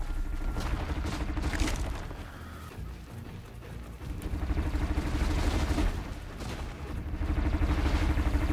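Heavy gunfire in the video game Horizon Zero Dawn, several loud booming shots spread through a dense, busy game soundscape with steady rumbling action behind them.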